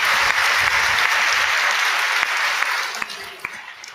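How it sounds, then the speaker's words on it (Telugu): A church congregation claps together during a sermon, a dense, steady wash of applause that fades toward the end, with a few scattered louder claps standing out. "చప్పట్లు కొట్టి దేవుని మహిమపరచు"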